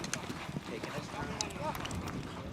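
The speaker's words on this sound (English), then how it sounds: "Lets the horse open up, and it's a horse race now to get to that ball." Polo horses gallop across turf during a memorial cup match, with quick rhythmic hoofbeats thudding nearby under a commentator's continuous talk.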